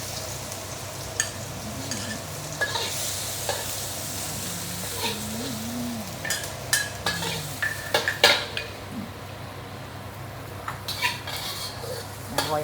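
Onions stir-frying in a wok for a Nyonya sambal stingray dish, a steady sizzle under irregular stirring scrapes and sharp clanks of a utensil against the pan.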